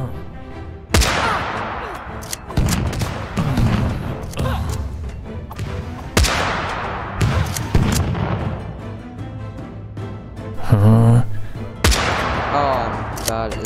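Booming cannon blasts crash out repeatedly amid chaotic game effects in Totally Accurate Battle Simulator, with a voice talking over the din between shots.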